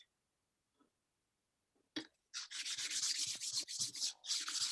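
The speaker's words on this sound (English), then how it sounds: "this sharpening with the both hands is actually not that hard" A Japanese kitchen knife is stroked along a sharpening stone with both hands. After a few faint taps comes a steady run of close, loud, gritty rasping strokes with brief gaps between them, and no voices.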